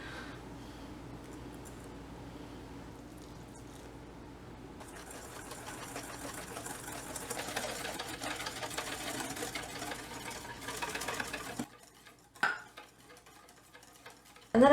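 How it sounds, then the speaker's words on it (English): Milk streamed into an egg mixture for choux custard while being whisked constantly, giving a steady rapid ticking and scraping of whisk against bowl that builds and grows louder, then breaks off into a few scattered clatters near the end. "Now I'm going to stream this milk into the egg mixture and mix constantly"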